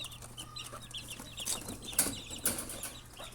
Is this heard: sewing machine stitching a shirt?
no